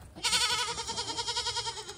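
A goat from a farm herd being dewormed gives one loud, close, sustained bleat with a rapid wavering tremble, heard alone without talk.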